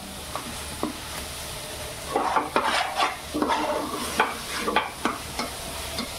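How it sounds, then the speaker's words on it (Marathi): Cooked vegetables tipped into a sizzling biryani gravy and stirred, with soft spoon scrapes and bursts of frying sizzle close by, irregular and moderately loud, with no speech. "त्याच्यात आता आपण ही शिजवलेली भाजी टाकायची आहे."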